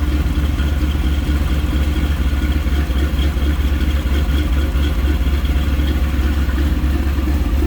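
A 1932 Ford Highboy Roadster idles steadily from behind, with a loud, even low-pitched exhaust rumble and mechanical clatter running unbroken throughout.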